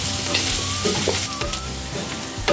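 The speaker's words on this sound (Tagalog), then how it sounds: "antayin na lang natin ito na magmantika para maluto sa sariling mantika" Pork frying in its own rendered fat, a loud, close, steady sizzle and crackle with occasional stirring scrapes, no voices.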